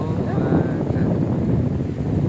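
Steady wind rushes and buffets against the microphone throughout, a continuous low roar outdoors by tilapia fish ponds in Sampaloc, with no pauses.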